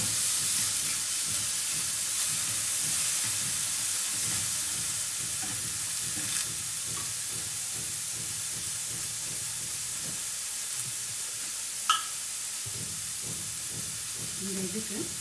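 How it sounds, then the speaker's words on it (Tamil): Onion frying in a pan for a horse-gram masiyal gives off a steady sizzle and hiss, broken by rhythmic scraping and stirring strokes, with a brief sharp clink near the end. "கொஞ்சம் ஆனியன் குக் ஆகிடுத்து."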